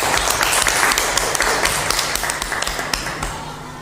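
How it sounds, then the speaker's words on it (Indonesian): An audience at a school gathering applauds, many hands clapping in a dense, loud, even patter that continues steadily and tapers slightly toward the end, with no talk over it. "Kita beri tepuk tangan untuk semangat."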